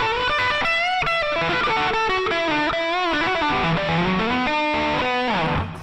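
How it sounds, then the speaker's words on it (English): Electric guitar notes and chords played through a Raspberry Pi Pico multi-effects unit's simple algorithmic reverb ring out with a wide, washy reverb tail, each note blurring into the next. "Simple algorithmic reverb."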